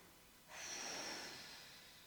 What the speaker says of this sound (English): Breathe in through your nose, out through your mouth